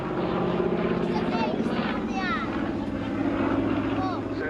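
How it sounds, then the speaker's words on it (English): A P-47 Thunderbolt piston-engined propeller fighter flies at a seaside air show, its steady droning engine hum heard at a distance beneath a loud announcer's voice. "the P-47 Thunderbolt, the almighty Jug"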